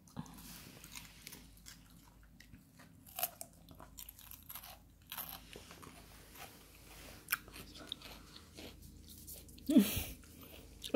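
A dachshund crunches and chews a piece of cucumber close up, with quiet irregular bites, soft wet munching and a few sharper crunches, growing louder near the end.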